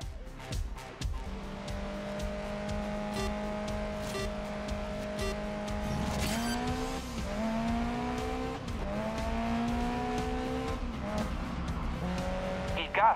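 A race car in Grid Legends driving laps, its engine droning steadily and rising through the gears with brief shifts and tire noise, loud and close throughout, with no talking.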